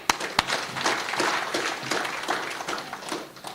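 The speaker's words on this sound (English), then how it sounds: "a round of applause." Meeting audience applauding in a legislative chamber during a school rationalisation session, a short burst of many hands clapping with a few sharp claps at the start, fairly close and steady.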